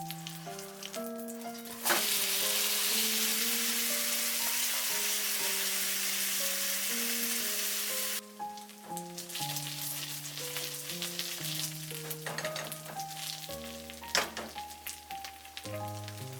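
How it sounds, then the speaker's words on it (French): An okonomiyaki, a Japanese pancake, fries in a pan with a loud, steady sizzle that swells sharply for several seconds after being flipped, over background music. "Je retourne la crêpe et je la laisse griller 5 minutes."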